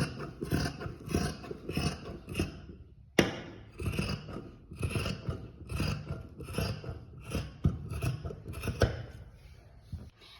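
Scissors snipping salwar cloth, a steady series of close, crisp cutting strokes with short pauses between them and one sharp louder snip partway through.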